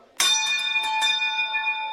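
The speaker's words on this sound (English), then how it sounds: "A deep, heavy gong echoes through a huge arena." A deep, heavy gong struck once, its bright metallic ring blooming and sustaining loud and alone through a huge arena, with a long shimmering decay.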